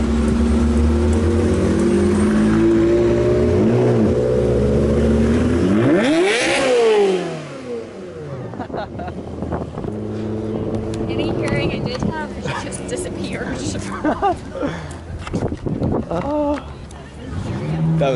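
Ferrari sports cars rev their engines loudly and close by, the pitch sweeping up and down in a sharp burst, then giving way to a rumbling idle with more revs and background voices.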